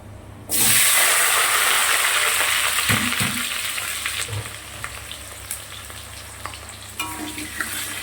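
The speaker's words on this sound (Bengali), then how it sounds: "আর এখানে দেবো হচ্ছে তোমার ফোড়নে গোটা এলাচ আর লবঙ্গ ফাটিয়ে দিয়েছি।" Whole cardamom and cloves hit hot oil in a kadai with a sudden loud sizzle, settling into a steady, close frying hiss sprinkled with small crackles and pops.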